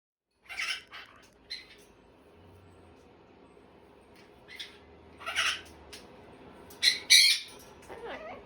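Bird squawks in short, sharp bursts, a few loud calls spaced over several seconds with quieter gaps between, fairly close and heard alone without talk.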